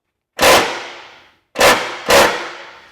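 A power tool gun fires three sharp, loud bursts, one long then two quick ones, while a Subaru Crosstrek is being lifted with an HRG Offroad lift kit.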